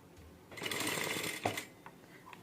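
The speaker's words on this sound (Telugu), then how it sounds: "మిషన్ స్టిచ్ సెట్టింగ్స్ చేసాం కదా, మరి ఇప్పుడు మామూలుగా కుట్టు పడుతుందా లేదా అని డౌట్ వస్తుంది కదా" A domestic sewing machine stitching a blouse runs in one steady burst for about a second, then a brief knock and a few faint mechanical clicks follow near the end.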